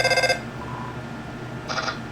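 Video game phone ringing in Undertale: two short bursts of a bright electronic ring separated by a brief pause, fairly close and clear with no talking.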